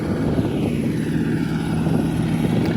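An old SK-5 combine harvester engine drones steadily and loudly at harvest, a continuous low mechanical roar that holds close throughout without any voices.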